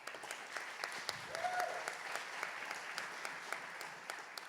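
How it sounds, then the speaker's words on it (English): A convention audience claps in a sparse, faint round of applause, with scattered individual claps audible over a quiet room. "a round of applause for her."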